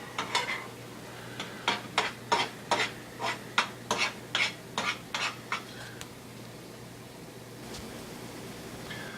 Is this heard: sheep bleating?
no